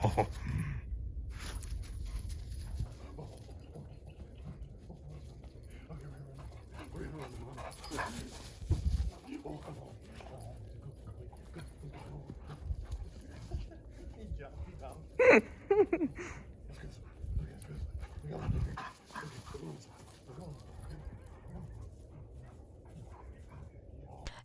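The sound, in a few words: Pitbull dog whimpering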